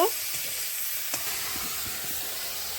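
Leafy green stalks fry in hot oil in a pan with salt, turmeric and chili powder. A steady, close hiss of sizzling fills the clip, with a faint clink or two underneath.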